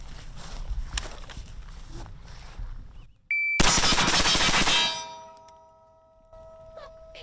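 Rapid burst of shotgun buckshot blasts in a video game, a loud dense volley of booming reports with metallic clanging, followed by fading ringing tones and faint clicks.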